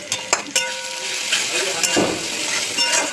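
Spice paste of tomato, salt, cumin paste, chili powder, Kashmiri chili and turmeric fries in oil in a pan for egg devil, a continuous soft sizzle broken by several sharp clicks and scrapes of stirring.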